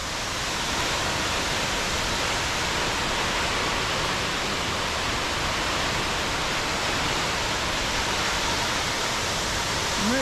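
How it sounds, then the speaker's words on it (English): Steady, full roar of the Stuibenfall waterfall in Austria, a dense unbroken rush of falling water heard close by with no other sounds over it. "thought I'd just come and have a look at the waterfall."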